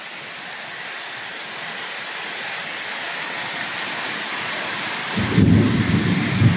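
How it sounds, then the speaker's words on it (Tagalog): Steady rain hisses throughout, and near the end a low rumble of thunder rolls in. "Kumukulog-kulog pa guys."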